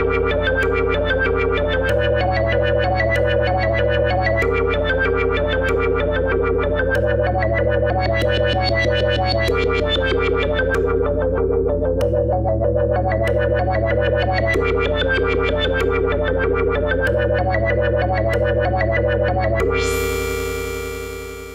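Moog Subharmonicon synthesizer patch with envelope textures plays a steady, looping sequence of pulsing tonal notes with rich harmonics, repeating in a regular rhythm for about twenty seconds before a rising sweep at the end, close and with no talking.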